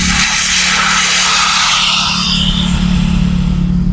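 A loud, steady hiss of air rushing out of a tire valve, broad and continuous, with a low hum underneath, close and unbroken throughout.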